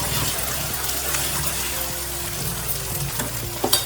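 Curry leaves hitting hot oil for a Telangana-style crab curry make a continuous crackling sizzle, close and steady, with a few sharper pops near the end and no voices.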